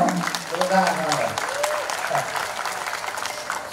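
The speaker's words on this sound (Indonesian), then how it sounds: "Boleh minta tepuk tangannya? Tepuk tangan." Audience applause at a Betawi cultural arts performance at Setu Babakan cultural village, a steady wash of clapping from a crowd through the whole stretch with a few voices calling out over it.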